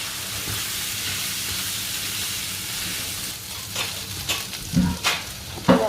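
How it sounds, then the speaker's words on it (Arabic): Flour frying in a little oil, crackling with a steady hiss that breaks into louder scrapes and stirring clatters toward the end, with no voices. "نقلب معلقه الدقيق ان احنا نحمرها."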